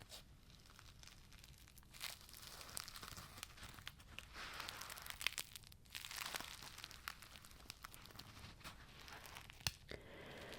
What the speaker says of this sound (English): Maybe we'll go with the sponge again. I've been using it a lot recently. I love the sounds though, the kind of crunchy sounds.